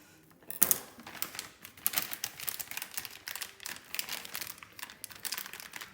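Dull scissors snip and trim a plastic piping bag while decorating cookie dough cupcakes, giving a run of close, quiet crinkly cuts and rustles with no talking.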